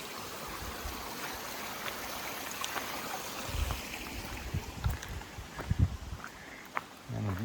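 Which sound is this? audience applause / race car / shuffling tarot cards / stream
stream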